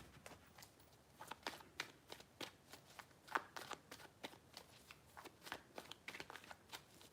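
Rapid riffling of a deck of tarot cards, repeated over and over in quick crisp bursts, close by with no talking.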